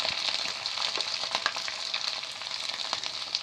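Ground spices with ginger and green chilli paste frying in oil for a vegetarian biryani, a close, steady crackling sizzle with quick pops throughout.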